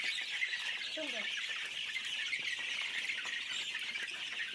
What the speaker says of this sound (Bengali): মুরগিগুলো কত চঞ্চল প্রকৃতির